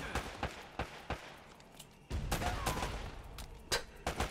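Gunfire in Uncharted: Drake's Fortune: scattered single shots crack at irregular intervals, followed by a denser stretch of fire with a few more loud reports toward the end.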